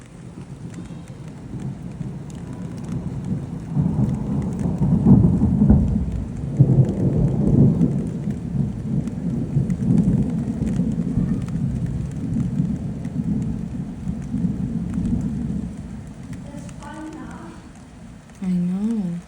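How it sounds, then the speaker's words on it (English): Steady rain falls with deep rumbles of thunder rolling through, loud and close, and a voice speaks briefly near the end. "Beautiful is the sound of that rain."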